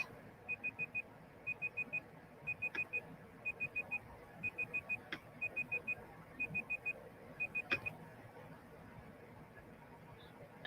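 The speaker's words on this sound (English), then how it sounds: "So now I hear the beeping." An alarm beeps in steady groups of four quick, high tones that repeat about once a second, loud and close with no talk over it.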